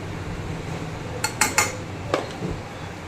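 A few quick metallic clinks and clanks of a lid set onto a pot of boiling radish, over a low background hum.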